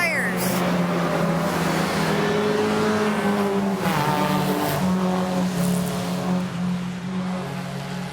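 Several Formula race cars on cold tires run their aggressive opening lap at Laguna Seca, a dense, continuous wall of engine drone with shifting pitch that holds steady and loud throughout, with no break in the noise.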